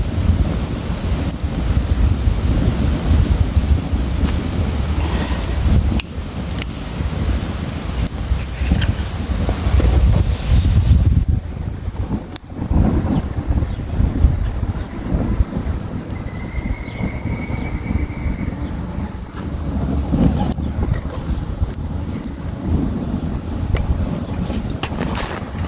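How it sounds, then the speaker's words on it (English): Steady outdoor wind buffeting a microphone, a continuous low rumble with gusty swells throughout and a brief faint whistle midway. "It's a windy day"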